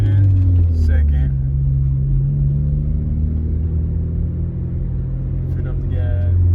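Sixth-generation Chevrolet Camaro with a manual gearbox pulling away in second gear, its deep engine drone rising steadily in pitch, loud and close, while someone talks at the start and end.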